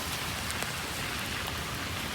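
Heavy cyclone rain pours down steadily in Chennai during Cyclone Fengal, a dense, continuous hiss of water striking surfaces with no break or voices.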